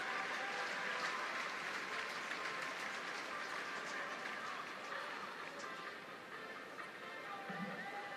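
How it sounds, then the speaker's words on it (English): Stadium crowd applauding Leeds Carnegie rugby team as they come out before the British and Irish Cup Final, a steady broad wash of clapping sustained throughout, with some voices mixed in. "Leeds Carnegie get a warm round of applause here from the respectful Johnny Buck crowd"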